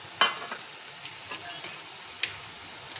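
Chopped wild greens being stirred and mixed in a frying pan, two sharp scraping clinks over a faint steady sizzle, with a few softer taps in between.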